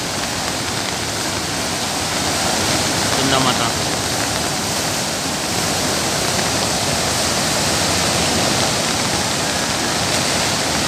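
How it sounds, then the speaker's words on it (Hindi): Heavy rain pours steadily at Sundha Mata temple in August, a dense, continuous roar of falling water that fills the whole clip, with a voice speaking briefly over it. "अगस्त 2020 सुबह से 5 बजे से बारिश चालू है।"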